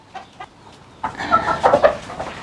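A rooster in a chicken coop clucks and calls with a few short bursts, followed by louder, busier clucking and squawking up close.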